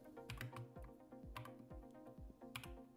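Rapid clicking of keys on a computer keyboard as text is typed, close and fairly quiet, in short irregular bursts with no talking.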